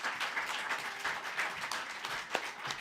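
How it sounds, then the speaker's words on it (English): An audience at a poetry reading claps for the poets, a lively, uneven patter of many hands with a few sharper individual claps standing out, sustained across the whole stretch. "round of applause for all our poets this tonight"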